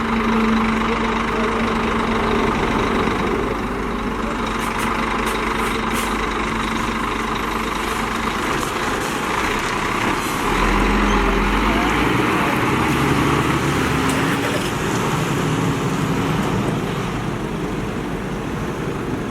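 A heavy water tanker truck engine rumbles steadily with a low idling drone as it drives away, staying fairly loud throughout, while a voice speaks intermittently over it.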